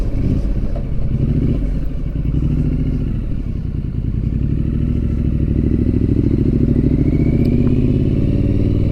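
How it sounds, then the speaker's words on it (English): A Triumph Street Scrambler motorcycle rides along a road, its engine giving a steady, loud, close rumble throughout with light clatter and no voices. "I've taken the bike up and down the road a couple times here."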